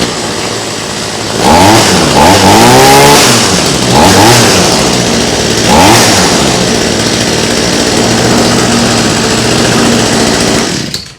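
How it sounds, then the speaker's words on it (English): A cheap hedge trimmer's small two-stroke engine revved up several times in bursts, the whining pitch climbing and falling with each throttle blip before holding at a steady high buzz, loud and close. "Let's give it some revs"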